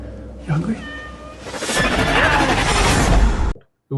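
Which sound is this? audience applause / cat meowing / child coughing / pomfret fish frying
cat meowing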